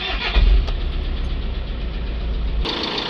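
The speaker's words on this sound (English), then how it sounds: "Let's start the van up" A van engine cranks and catches, then settles into a steady, loud idle rumble close by.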